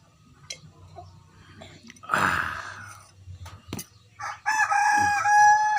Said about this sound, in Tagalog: Manok ito, manok.